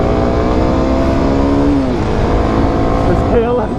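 Kawasaki KLX250 dirt bike engine droning loudly while riding on a trail, a steady close drone with slight pitch shifts as a rider talks over it.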